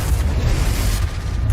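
Confringo explosive spell in Hogwarts Legacy, a loud, dense booming blast with heavy low rumble, continuous and close throughout.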